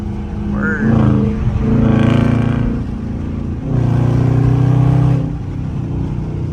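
A Dodge Charger RT engine revs hard in two long, loud surges, heard from inside the car during a highway and city pull, with excited talk between the bursts.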